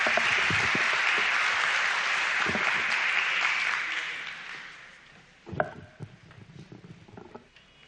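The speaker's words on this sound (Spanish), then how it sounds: "Vamos a recibirlo con fuertes aplausos." Loud, dense applause from a forum audience at the opening of a science and technology event, sustained for several seconds before thinning out into scattered claps and rustling.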